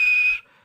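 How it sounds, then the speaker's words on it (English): Edward the steam engine gives one short, bright whistle blast that cuts off sharply after about a third of a second, leaving a faint fading tail. "And he blew his whistle."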